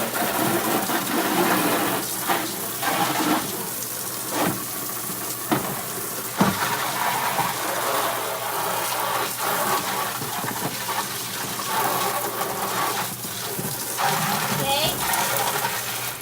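A gentle water spray rinses down a waterproof RC truck, a steady hissing wash with uneven bursts and drips, while someone talks over much of it.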